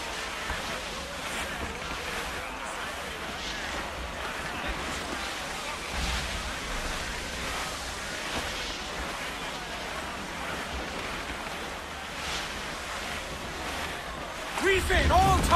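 A sailing ship rides a sea squall in Assassin's Creed 4 Black Flag, with steady rushing wind and crashing surf filling the scene throughout and voices heard over the weather.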